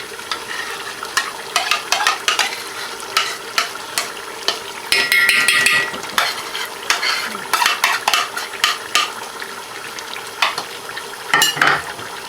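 A spoon stirs pickle and yogurt into a potato masala rice dish in a pot, with repeated scraping and clinking strokes against the metal, a soft sizzle underneath and a sharper rattle now and then.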